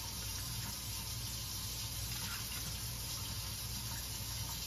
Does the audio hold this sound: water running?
yes